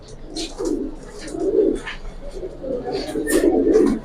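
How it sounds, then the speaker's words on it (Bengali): Pigeons from a seller's stock of fancy breeds such as silver and military pigeons coo in low, throaty rolls, several overlapping calls rising and falling across a few seconds, with faint background chatter. "পাল্লা করা কবুতর এই যে আর কবুতর এই দেখেন"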